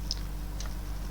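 A few isolated keystrokes on a computer keyboard, ending with a press of the enter key: two or three sharp, close clicks spaced apart over a faint steady background hum.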